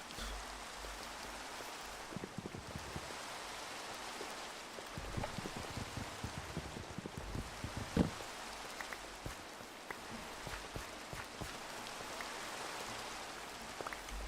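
Rain falls in a video game called Monumental Experience, a steady, soft wash of droplets with scattered small ticks and patters throughout, fairly faint and uninterrupted by speech.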